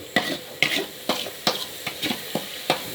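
Lard sizzles in a hot frying pan while a utensil stirs and scrapes in a steady series of clicks, close and moderately quiet.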